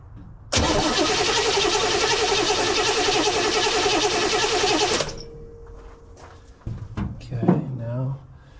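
A 1968 Chevy 327 V8 with a rebuilt Carter carburetor cranks and fires, a loud, dense roar running steadily for about four and a half seconds before cutting off, followed by quieter clunks and a few scattered knocks.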